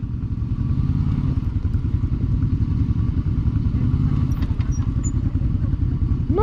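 Can-Am Maverick off-road side-by-side driving over hilly ground, its engine droning steadily with a throaty mid-pitched rumble and occasional clatter, close and continuous, with voices talking over it.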